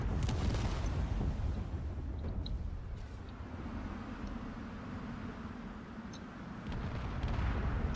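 Corvette spaceships exploding in a space battle video game, heard as a low continuous rumble of distant blasts, fairly faint and steady throughout, with a few soft crackles on top.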